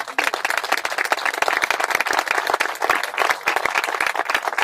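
An audience claps at a political rally in Málaga, Spain, a brisk continuous round of many hands with distinct individual claps audible, steady and fairly loud with no speech over it.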